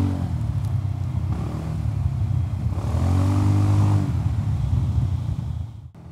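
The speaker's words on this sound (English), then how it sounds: "The exhaust sound is nice. Gives a little bit of grumble in it." Engine and exhaust of a BMW C 400 GT scooter grumble steadily while riding, a continuous low throaty drone that swells slightly in the middle and then tapers off at the end, with no talking.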